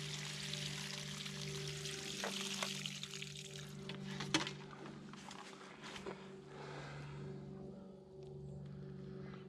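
Water is poured out of a plastic jug used to stop a bullet, a continuous splashing pour with a few small knocks and gurgles, fairly close and steady throughout, with no talking.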